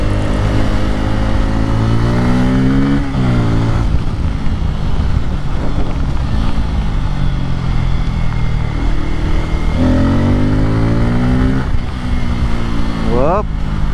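A Kawasaki Pulsar N250 250cc motorcycle engine drones loud and close while riding, with rising and falling revs through gear changes over constant wind rush.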